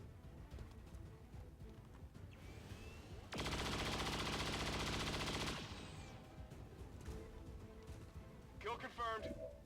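Burst of automatic gunfire from soldiers in XCOM 2: War of the Chosen, a loud dense rattle lasting about two seconds in the middle, set against quieter game ambience and music.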